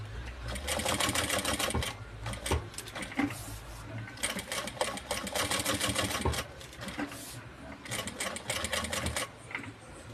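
A sewing machine fitted with a size 18 needle stitches around the edge of a piece of fabric in fast, rapid rattling bursts. Several runs are separated by brief pauses, all heard close up.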